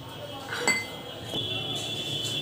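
Coconut ladoo mixture with cashew, almond, walnut powder and cardamom being mixed in a bowl, with light, scattered metallic clinks of a utensil against the bowl over a quiet background.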